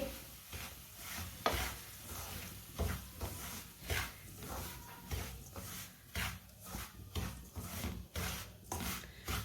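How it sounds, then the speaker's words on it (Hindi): A spoon stirs semolina roasting in ghee, making rhythmic gritty scraping strokes about twice a second. The close, dry rasping strokes rise and fall in a steady pattern, with no talking. "सूजी को जलने बिल्कुल भी नहीं देना, इसे चम्मच चलाते हुए भूनना है।"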